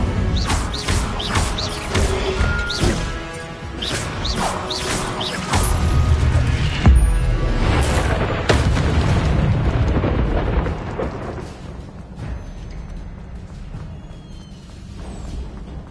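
Incendio fire spell cast in the video game Hogwarts Legacy, a roaring burst of flame with crackling bangs and crashes that swells, then tails off into a quieter rumble.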